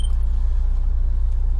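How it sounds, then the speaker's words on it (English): A car being pulled up at an allotment gives a brief, steady low engine rumble, close and fairly loud, with no voices. "I'll pull the car up"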